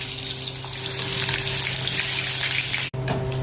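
Pomfret fish goes into a hot pan with spices, giving a loud, steady hiss of frying oil that runs unbroken, cut by one brief clatter near the end.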